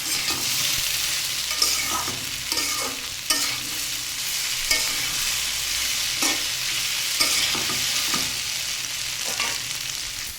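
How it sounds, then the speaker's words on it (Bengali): Cucumber, potato and soybean chunks sauté in a pan with a soft, continuous sizzle, while a spatula stirs and scrapes at regular intervals, heard up close with no voices. "দেখুন আমার সবজিগুলো কিন্তু বেশ ভালোভাবে কষানো হয়ে গেছে"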